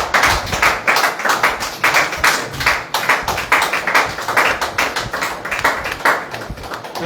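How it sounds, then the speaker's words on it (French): A church congregation claps together in a strong, regular rhythm, each beat crisp and close, repeating steadily throughout the service. "c'est pour cela que nous t'applaudissons cet après-midi"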